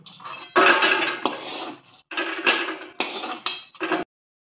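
Roasted makhana (fox nuts) scooped from a pan onto a plate: a run of close, clattering scrapes and clinks of a spoon against metal in several bursts, then silence.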